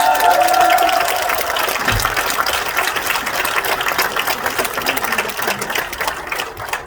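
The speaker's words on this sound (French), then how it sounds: "Grand applaudissement à eux." Cinema audience applauding and cheering during a film presentation, a dense sustained clatter of many hands filling the room at steady loudness for several seconds.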